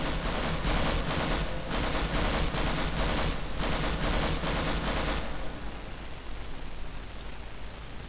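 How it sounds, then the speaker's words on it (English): Sustained automatic gunfire from the video game Half-Life, a dense rapid burst of shots for about five seconds that gives way to a fainter hiss of noise, with no talking. "You don't even know what you're firing at this point"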